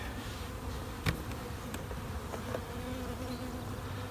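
A small winter cluster of honeybees inside a hive gives off a faint, steady, continuous buzzing hum with no voices.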